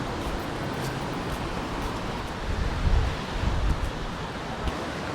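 Sea surf washing onto a beach at Can Picafort, Mallorca, a steady broadband wash with wind buffeting the microphone and a slightly louder surge midway.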